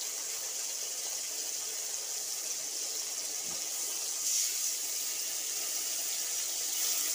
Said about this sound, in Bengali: বাটিটা দিয়ে একটু জল দিয়ে দিলাম।